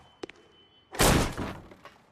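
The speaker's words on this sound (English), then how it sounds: "Don't bother knocking, just kick the door in." A door is kicked in during an L.A. Noire police scene: a couple of faint knock-like taps, then one loud, close crash that trails off into a short rumbling decay, with no voices.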